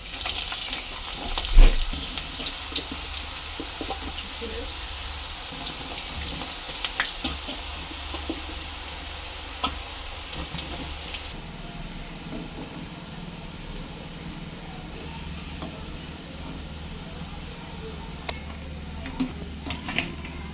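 Garam masala and ginger garlic paste frying in a pan give a steady sizzle with small crackles and occasional clinks, the hiss easing partway through, no talk.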